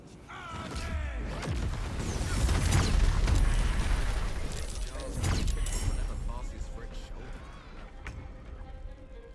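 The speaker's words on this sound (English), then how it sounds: "So that was a lot of explosions." Smoke powder barrels blowing up in the video game Baldur's Gate 3: a chain of loud booming blasts that swell and fade over several seconds, with crackling debris and a low rumble between bursts.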